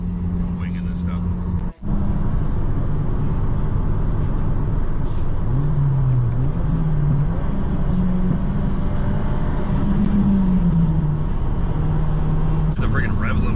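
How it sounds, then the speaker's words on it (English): A Subaru WRX engine drones loudly and steadily near the car, its pitch wavering up and down as it bounces off the rev limiter, with a brief dropout early on. "The freaking rev limiter there, dude."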